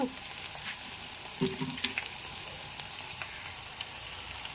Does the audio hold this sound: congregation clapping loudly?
no